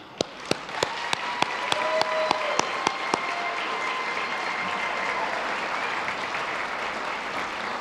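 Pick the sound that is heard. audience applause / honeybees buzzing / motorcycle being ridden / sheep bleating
audience applause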